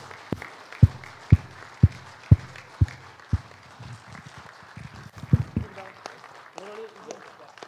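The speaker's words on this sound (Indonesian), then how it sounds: "Tepuk tangan dulu." At a Labour Party political rally, the crowd is urged to clap for its newly elected president. Several sharp, evenly spaced claps ring out, followed by scattered claps and crowd noise, then a voice speaks.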